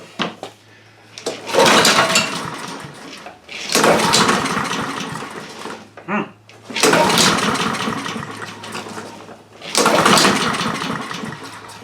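A Honda HRR2156 push lawn mower that had trouble starting is pull-started and runs in loud, close bursts, roaring up and cutting out about four times with short gaps between attempts.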